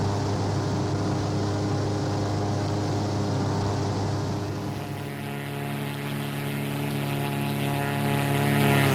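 Simulated single-engine Cessna 188 AgTruck crop-duster drone in X-Plane 11, a steady loud propeller and piston hum that dips slightly in the middle and swells again near the end, with no talk.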